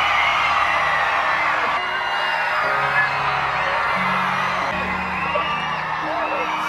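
A large convention audience screams and whoops at length, a loud and continuous crowd roar filling a big room, with some talking mixed in.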